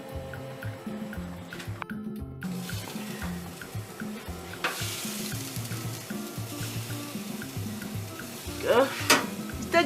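Salmon peri peri fish kebab on a skewer cooking under an oven grill, a soft continuous sizzle with faint stirring clatter and a few louder bursts of spitting fat toward the end.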